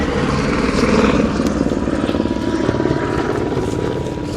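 A firefighting helicopter works near a water tank at a large wildfire, its rotor beating in a steady loud chop with a whining engine drone, close and continuous throughout.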